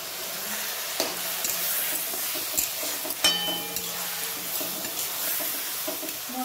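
Spices cooking with onions in a pan for a Bengali chicken pudina curry, a steady close sizzle with stirring scrapes and a few sharp utensil knocks, faint background tones, no talking.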